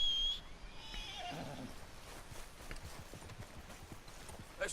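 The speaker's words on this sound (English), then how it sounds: "call for your horse" A horse in Red Dead Redemption 2 gives a clear whinny, then trots closer with rhythmic clip-clop hoofbeats that build steadily across the clip, set against quiet game ambience.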